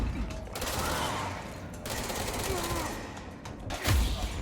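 Rapid gunfire from the video game Control, dense bursts of shots in a sustained fusillade with brief pauses and a heavy thump near the end.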